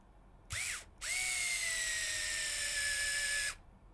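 A power driver sinks 10 mm screws through the plastic of an HPI Venture SBK RC model, with a short whirring burst and then a longer steady whine that slowly drops in pitch before stopping, close and alone.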